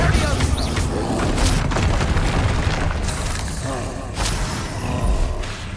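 Explosive combat spells go off in Hogwarts Legacy, a fantasy wizarding game: loud, dense booms and blasts crowd close together amid constant battle noise, with a voice over them.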